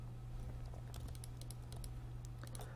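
A few soft computer keyboard key presses click faintly over a steady low electrical hum, spaced irregularly across a short quiet stretch.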